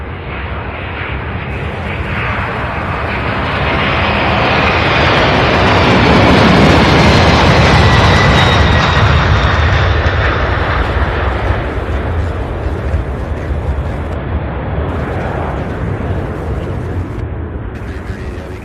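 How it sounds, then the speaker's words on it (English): Airplane taking off at Louisville International Airport, a powerful jet roar that swells to a peak midway and then slowly fades as it climbs away, loud and sustained. "Goodness, what a beautiful takeoff."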